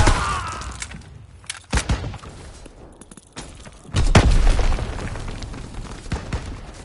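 A mortar explodes in a PS4 video game. Sharp booms and thuds land amid scattered impacts, with the heaviest hit around four seconds followed by a rumbling tail.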